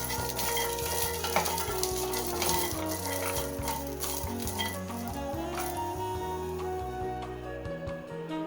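Almonds roast in a pan over a low flame, with a continuous soft sizzle and rattle as they are stirred, the rhythmic scraping close and steady throughout, no speech.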